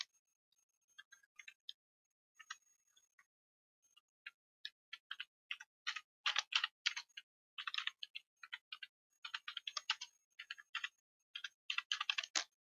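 A computer keyboard clicks in uneven, quick bursts of keystrokes, quiet and close, with short pauses between groups of taps while an institution name is typed.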